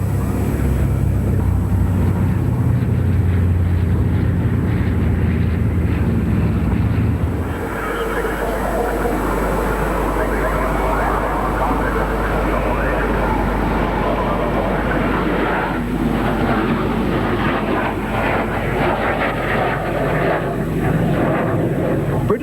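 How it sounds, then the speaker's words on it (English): At a Richmond Air Force Base airshow, a Hercules C-130 and a squadron of Orion aircraft give a loud, continuous roar of propeller engines that shifts in tone as planes wheel overhead, with a voice talking over it. "The jump plane, a Hercules C-130, lands, a squadron of Orions wheel and swoop overhead."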